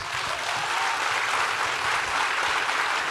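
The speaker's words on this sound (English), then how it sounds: "I think we can clap louder for that." Dense, steady audience applause at a panel discussion with army officers, sustained and fairly loud throughout without a break.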